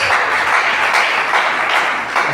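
A congregation at an evangelical Pentecostal church service claps together in a dense, continuous burst of applause, loud and close, with no talk over it.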